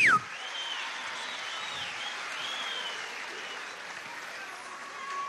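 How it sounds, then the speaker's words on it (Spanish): Audience applause at a Misión Ribas graduation ceremony, a steady crowd clapping at moderate distance that holds evenly for several seconds, with a brief whistle-like tone at the start and faint tonal sounds drifting over it. "Vamos a darle un aplauso a Silvia, la primera combatiente de la Repúb"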